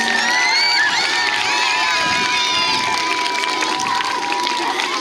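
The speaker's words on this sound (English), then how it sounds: "one more round of applause for our kindergarten through 2nd grade" School award ceremony audience of children and adults cheers and applauds, a dense, continuous roar of excited young voices and whoops over clapping.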